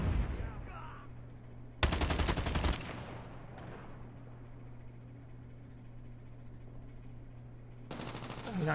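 HG40 submachine gun fire in Call of Duty Mobile, a short loud burst of rapid shots followed by quieter game ambience and a second burst near the end.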